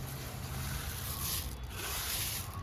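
Flattened rice (aval) is stirred in a pan, giving a soft dry scraping and rustling that continues close by for a few seconds.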